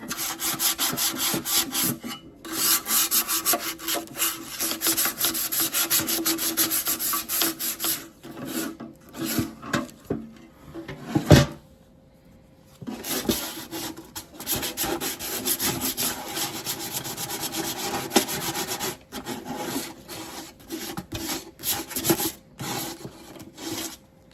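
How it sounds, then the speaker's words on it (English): Sandpaper rasps against wood in rapid back-and-forth scrubbing strokes, loud and close, with a couple of brief pauses. "Wherever you want it scuffed up, you hit it with the sandpaper."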